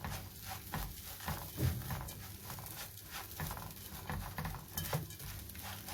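Rice stirred in a pot with ground nutmeg, cardamom, chicken spice, salt and water while cooking rice for stuffed chicken: a steady patter and rattling scrape of grains against the pot, close and continuous, with soft clinks and no talk.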